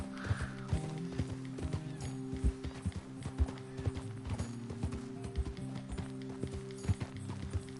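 Horse hooves clip-clopping at a steady trot in Red Dead Redemption 2, a close, rhythmic beat of repeated hoof strikes with an occasional whinny, heard under a low music or ambient bed.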